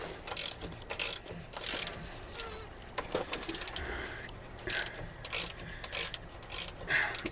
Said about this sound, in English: get your 8mm socket and pull these straps off of the center bearing